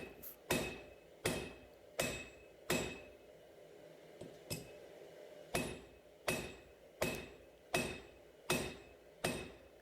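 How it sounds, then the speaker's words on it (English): Heavy hammer blows strike hot metal while forging a knife blade, a steady rhythm of about a dozen loud ringing impacts spaced under a second apart, with no talking. "I'm using really heavy blows to make the metal move."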